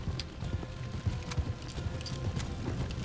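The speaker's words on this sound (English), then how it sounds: "Riding horses through burning fields?" Horse hooves galloping in Red Dead Redemption 2 during a ride through burning fields, a steady rapid clip-clop rhythm under a low rumbling game background, no talk.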